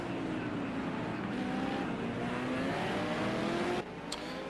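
V8 Supercars race cars at Ruapuna Park roar steadily as they accelerate along the track, with rising engine pitch and a sustained loud drone from several cars that cuts off sharply near the end.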